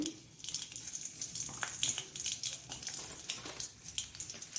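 Crushed garlic frying in hot oil in a pan for a Mangalore-style drumstick leaves palya tempering, giving a steady close sizzle and crackle with faint stirring, with no talking.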